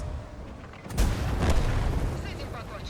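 A tank cannon shot in World of Tanks, a single heavy boom with a deep rumbling tail that fades over about two seconds, with a voice talking over it.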